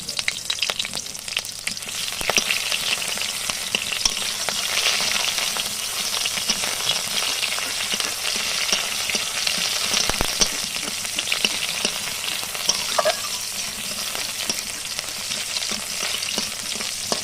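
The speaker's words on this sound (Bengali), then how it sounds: "এবার পেঁয়াজ ফোড়ন দিয়ে দিচ্ছি।" Onions frying in oil over a cumin tempering, a loud, dense, unbroken sizzle close up, steady throughout with faint stirring noises and no talk.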